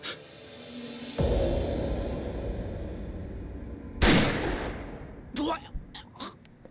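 In Yakuza Kiwami 3 a single loud gunshot goes off, then a second sharp blast with a long decaying tail about three seconds later. Brief spoken exclamations follow close by.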